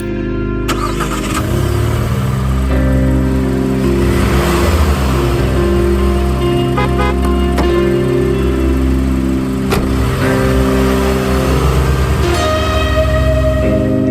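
A car engine in an animated film rumbles and revs loudly as the vehicle pulls up, a sustained mechanical drone with shifting pitch and a few clicks over a dense background.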